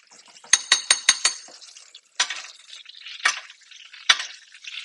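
Brown butter spooned and basted over food in a cast iron pan, heard as a brisk run of metallic spoon clinks against the pan followed by scattered single taps amid a soft sizzle, close and alone.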